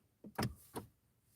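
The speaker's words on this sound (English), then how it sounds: "I'm gonna lock the door" A door being locked from inside makes a few quick, faint mechanical clicks and clunks in close succession, a brief latch-and-bolt sequence in a quiet space with no talking.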